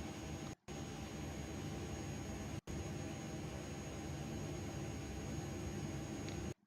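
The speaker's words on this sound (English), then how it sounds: "let's start up engine number 1" Jet engine of the iniBuilds A300 starting up in Microsoft Flight Simulator, a steady, even roar with a faint whine that holds constant, cut by a few brief dropouts.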